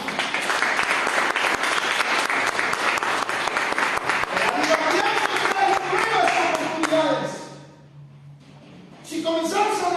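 A church congregation applauds loudly and steadily for several seconds, a dense crowd of clapping with voices mixed in, which fades out before a brief return.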